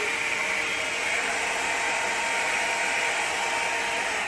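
A handheld hair dryer blows hot air steadily and loudly at close range, a continuous even whoosh with no pauses and no voices.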